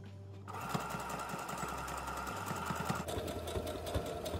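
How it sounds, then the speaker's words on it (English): A sewing machine runs a zigzag stitch along a fabric face mask, a rapid, steady mechanical ticking and whirring that carries on without pause and is heard up close with no talking. "now we're gonna do the zigzag stitch on the other side to finish up our mask"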